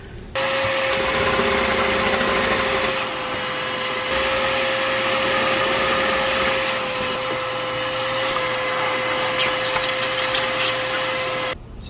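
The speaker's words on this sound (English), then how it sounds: "Got to deburr the outside of the hole. I'll do that with" A drill with a 3/8 bit deburrs a hole in a computer case, an ATX build in an Apple II Plus case, running as a steady loud whine for about eleven seconds with slight changes in pitch and no talking.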